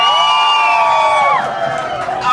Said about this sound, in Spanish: Aplausos para el troll.